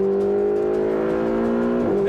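Turbocharged Ferrari 488 GTB engine accelerating, a loud, close, rising tonal roar that climbs steadily before dipping as it shifts near the end.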